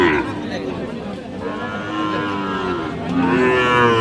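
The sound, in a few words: Sahiwal cattle mooing at a busy cattle market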